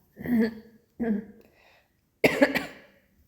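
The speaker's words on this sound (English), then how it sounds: "there's a little bit of a cough going around the house at the moment" Three close coughs, two quick ones followed by a harsher, louder one after a short pause.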